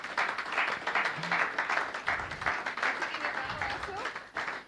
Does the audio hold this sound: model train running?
no